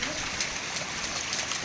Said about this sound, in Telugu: ఇది మంచి వర్షం, విపరీతమైన వర్షం